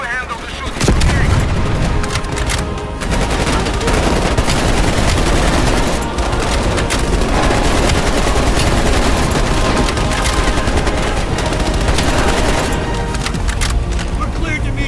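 Dense, continuous gunfire from a helicopter in the Call of Duty: Black Ops Cold War video game, loud and sustained for the whole stretch with booming bursts and voices shouting beneath the shooting.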